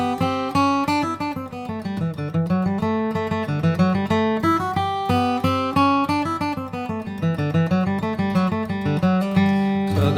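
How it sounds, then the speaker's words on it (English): Flatpicked acoustic guitar plays the A part of the fiddle tune Big Sandy River in G, a steady run of bright picked single notes with a strong rhythmic drive, close and clear with no talking. "that's the A part of Big Sandy River"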